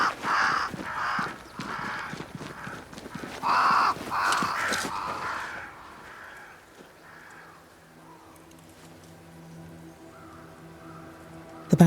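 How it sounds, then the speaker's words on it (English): Crows caw repeatedly in the video game Banishers: Ghost of New Eden, a flock calling harshly and fairly close for several seconds before fading into a quiet, low ambient hum. "crows. They flock to that great tree up there."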